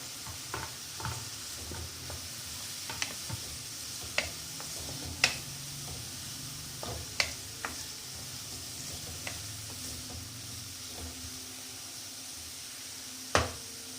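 Green chillies sautéing in a pan for an Indian-style tomato pasta, a soft, continuous sizzle broken by scattered sharp clicks of a spoon against the pan.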